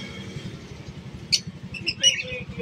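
Bright, brief chirps from a green wild-type bird, one sharp call followed by a quick cluster of tweets, heard close over a steady low rumble of background noise.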